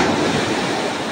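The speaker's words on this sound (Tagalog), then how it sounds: "Grabe ang basang alon, no?" Strong ocean waves break and wash continuously at Sulok Beach in General Nakar, a loud, dense surf roar with some wind buffeting the microphone.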